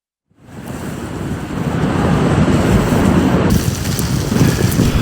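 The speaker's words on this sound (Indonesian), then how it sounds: "siklon dahsyat yang membawa angin kencang dan salju ke wilayah" Strong cyclone wind driving snow across the Kamchatka Peninsula in Russia, a loud, continuous roaring gust that swells in after a brief silent start and stays steady and dense throughout, with no voices.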